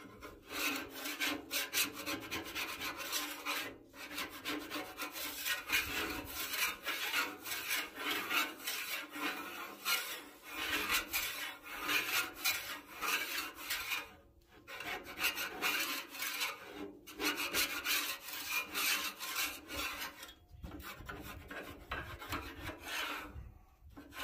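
Stainless steel Blackstone griddle scraper dragging across a griddle on low heat to clear bacon grease, a steady harsh rasping scrape repeated over and over, close and loud, with only brief pauses between strokes.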